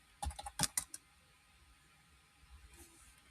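A computer keyboard is typed on in a short burst of several quick clicks near the start, then goes quiet apart from faint background hiss.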